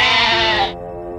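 A billy goat gives one loud, close, wavering bleat lasting under a second, then a quieter, lower trailing tone.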